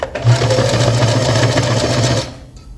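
A sewing machine runs a short backstitch to lock a seam while attaching a small strap: a steady, close mechanical whir lasting about two seconds, then stopping.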